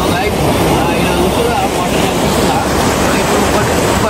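A waterfall roars loudly and continuously up close in a dense, unbroken rush of water, with voices mixed into the noise.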